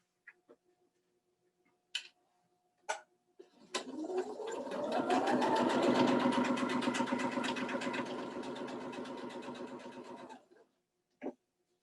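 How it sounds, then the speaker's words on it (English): A sewing machine runs a quarter-inch seam along a quilt piece, a few faint clicks, then a steady whirring hum that rises, holds for about six seconds and stops, followed by a last click. "I'm going to sew a 1/4 inch on both sides of that line."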